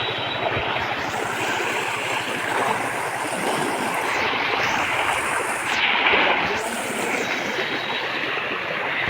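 Floodwater from heavy rain rushes in a loud, steady broadband roar close by, churning without pause, with no talk heard.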